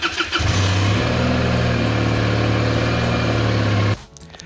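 A motorcycle engine cranks and catches within half a second, then idles loudly with a steady, throbbing hum for several seconds before it abruptly cuts off.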